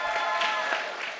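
Steady crowd applause at a festival opening ceremony, a dense wash of many hands clapping at moderate level throughout, with no single claps standing out.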